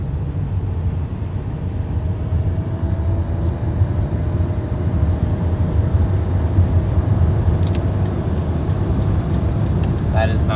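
Car engine climbing at half throttle with tyres on the road, a loud, steady low-pitched roar and drone that stays even throughout, heard from inside the car without talk.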